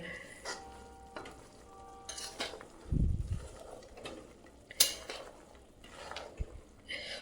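Fox nuts (makhana) stirred through sticky jaggery syrup in a pan, giving intermittent soft scrapes and light clatters with a few brief knocks, close and fairly quiet, no talking.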